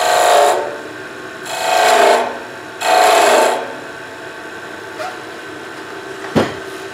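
A small skew chisel cuts wood in three close, rasping passes of about half a second each, then falls quiet apart from a light tap and a sharp knock near the end.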